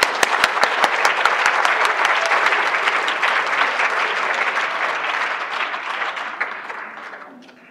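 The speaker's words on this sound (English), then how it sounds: "one more round of applause for our panelists" A large audience at an art and science evening event applauds the panelists: a few sharp early claps build into sustained, dense clapping that gradually thins and fades out near the end.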